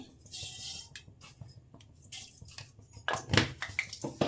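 Mustard seeds and cumin sputtering in hot oil while tempering for drumstick sambar, a run of quiet crackles and pops that grows into a busier, louder sizzle near the end.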